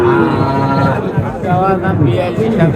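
Loud, close cattle moos at the Sati livestock market in Naogaon, a couple of long drawn-out lowing calls from young heifers and bulls, with faint crowd chatter in the background.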